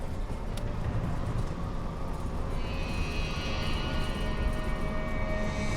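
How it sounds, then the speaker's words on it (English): An airliner's two engines at full takeoff power during the runway roll, a steady loud roar with a rising whine joining partway through, heard from inside the cabin with no talking. "Both engines sound an even note, and we're going down the runway now for a takeoff."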